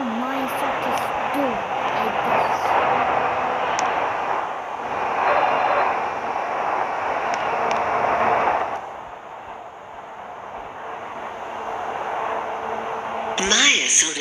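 Train running in a Roblox game on the line from Olympus Square to Myosotis Doors, a steady loud rumbling drone that fades partway through and then picks up, with a voice talking over it.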